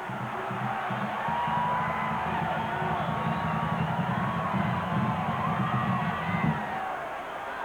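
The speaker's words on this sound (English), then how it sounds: "Now the Rebel crowd making some noise." A large Ole Miss Rebels home crowd roars and cheers steadily at a 1988 college football game against Florida, a dense, continuous stadium din with scattered shouts and whistles that stays at an even level throughout.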